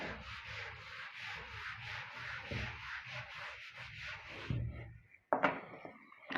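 Writing is rubbed off a classroom board in a maths lesson, a steady back-and-forth scrubbing that continues for several seconds close by, ending with a few knocks and scuffs.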